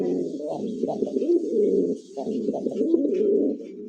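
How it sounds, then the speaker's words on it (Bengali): A male Bombay pigeon gives close, loud, throaty coos in two rolling phrases separated by a brief dip. "মানে কবুতর ডাক দিছে বাঘ বাকুম"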